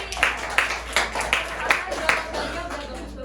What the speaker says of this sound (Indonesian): Boleh beri tepuk tangan dulu lagi